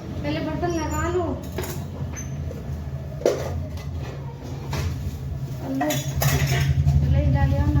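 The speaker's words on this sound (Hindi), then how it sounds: "बर्तन साफ करो।" Dishes are being washed at home, with cutlery and pots clinking and scraping close by. A steady stream of running water plays under intermittent voices talking in the background.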